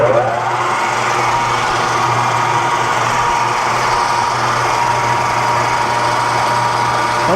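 A metal lathe spins an aluminum AN fitting in a machine shop, giving a loud, steady, unbroken mechanical whir with a constant low hum underneath.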